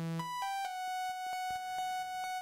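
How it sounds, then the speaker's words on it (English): A lone ramp-wave tone from a Roland Zenology software synth plays a few sustained notes with bright, buzzy harmonics between triangle and saw, clean and steady with soft note changes. "we'll choose the ramp wave, which is kind of similar to a triangle, kind of similar to a saw, somewhere in between"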